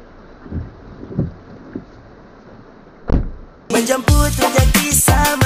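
Rain falling with distant rumbles of thunder during a storm, heard from inside an online taxi; a low boom rises midway before louder, broadband rain and clatter take over near the end.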